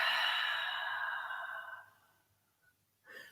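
A long, slow breath during a gentle hatha yoga flow, close and soft, fading out over about two seconds before a brief quieter breath follows.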